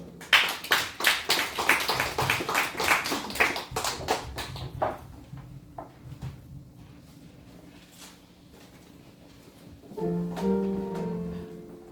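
A church congregation at a Thanksgiving service claps: brisk, close applause that thins over about five seconds into a few scattered claps, followed by a quiet hush and then the start of music.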